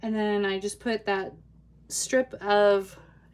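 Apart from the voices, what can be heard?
No distinct noise like a dog, phone or traffic.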